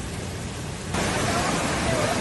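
Heavy storm rain pours down in Las Parras de Castellote, Teruel, as a steady broadband hiss that suddenly grows louder partway through, with faint voices underneath.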